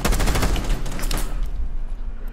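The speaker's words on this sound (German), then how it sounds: "Nein, sie schießt halt." Rapid automatic gunfire in Rainbow Six Siege, a dense burst of shots firing for about a second and a half before trailing off into reverberant game ambience, close and loud.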